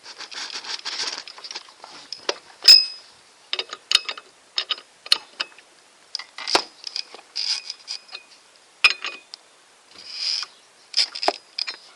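A 14 mm socket wrench unscrews a bolt during variator work, giving a series of close, sharp ratcheting clicks and metallic ticks in irregular bursts with short pauses between them.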